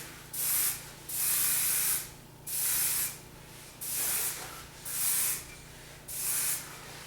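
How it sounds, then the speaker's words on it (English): Hairspray misted over a blended mohawk haircut in six short, evenly spaced bursts of hiss, each about a second long, close and alone. "I'm just going to spray this a little bit with hairspray"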